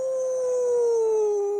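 A single long wolf-like howl from a human voice imitating a wolf: one sustained, loud, clear tone that slides slowly downward in pitch for under two seconds.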